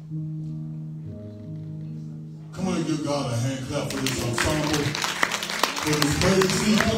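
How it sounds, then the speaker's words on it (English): Church congregation clapping for a musical ensemble during a worship service: after a few seconds of sustained organ-like tones, dense clapping breaks out and continues loudly, mixed with music and voices. "Come on and give God a hand clap for this ensemble."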